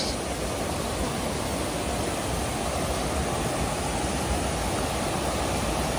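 River swollen by rain rushes past in a steady, broadband roar, close and unbroken from start to finish with no voices or other sounds breaking through.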